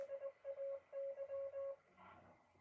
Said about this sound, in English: What we heard was Morse code.